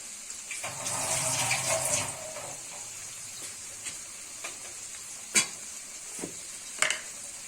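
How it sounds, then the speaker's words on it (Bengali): Shrimp and small icha fish sizzling in a pan with salt, a steady hiss of frying with a louder burst early on and occasional sharp clinks of a utensil stirring. "স্বাদ মতো লবণ দিয়ে চিংড়ি মাছ, ইচা মাছগুলা ভেজে নিচ্ছি"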